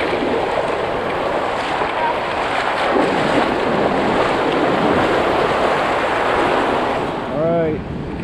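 Ocean surf washes onto a beach in a continuous loud roar with gentle swells, mixed with wind buffeting the microphone. A short voice-like sound comes near the end.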